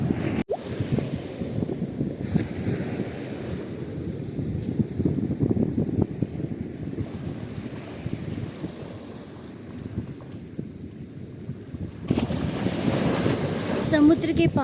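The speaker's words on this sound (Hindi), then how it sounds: "इसकी कलकल करती हुई लहरें एक मधुर संगीत को उत्पन्न कर रही हैं" Ocean waves roll and break on a beach at Karikal at sunrise, a broad continuous wash of surf mixed with gusty wind noise, swelling louder toward the end.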